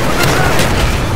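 A grenade blast from the Call of Duty: Black Ops war game lands amid a dense wash of combat noise, with a heavy low boom and sharp bursts rising over constant battle rumble and shouted voices.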